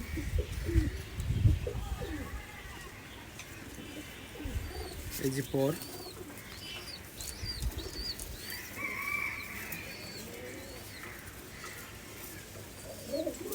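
Local giribaj pigeons, among them Teddy, Kamagar and Golden birds, coo repeatedly and flutter their wings close by, while someone talks over them.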